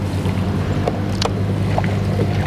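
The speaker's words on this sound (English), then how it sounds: "It's getting real windy out here today." Steady low wind rumble buffets the microphone outdoors on a bass fishing boat, with a continuous boat engine drone underneath and a few faint clicks.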